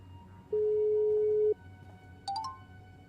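A phone call being placed: a single long steady tone, followed by a quick run of three short rising electronic beeps, heard alone against a quiet hum.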